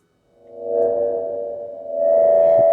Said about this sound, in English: I just want to show the reverb feedback